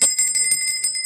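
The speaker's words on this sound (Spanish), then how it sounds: "En nombre de Dios y de la patria se pegó la campana" A session bell rings in an economy committee meeting, struck rapidly and loudly up close in a continuous metallic trill with no talking.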